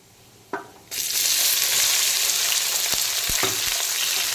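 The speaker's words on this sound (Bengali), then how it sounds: "এখন বেশ কিছুক্ষণ পেঁয়াজ কুচিটাকে হালকা ভাজা করে নেব" Chopped onions drop into hot oil with fried whole spices for a spicy jackfruit chicken potato curry, then a loud steady sizzle of frying fills the clip, with a few sharp stirring clicks near the end.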